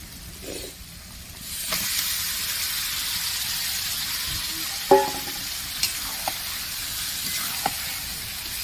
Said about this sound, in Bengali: এবার আমি মাখিয়ে রাখা, ম্যারিনেট করে রাখা মাটনটা দিয়ে দেবো